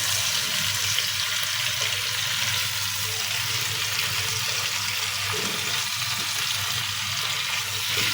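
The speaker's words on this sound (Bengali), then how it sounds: "এখন আমি এটা ভালোভাবে নেড়ে চেড়ে মশলাটা মাখিয়ে নিব সবজির সাথে" Papaya pieces stirred with spice paste in a hot pan for a tilapia and papaya curry give a loud, continuous frying hiss with scraping and stirring throughout, close and steady, without speech.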